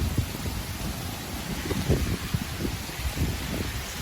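Wind gusts and rain lash outdoors during a thunderstorm, a loud, continuous roar with rustling and bursts of buffeting against the microphone.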